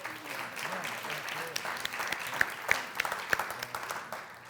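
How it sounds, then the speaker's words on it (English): A seated audience at a panel discussion breaks into applause, a dense wash of clapping with a few sharper nearby claps standing out, moderately loud and steady throughout, with faint voices mixed in. "Give our panelists a round of applause."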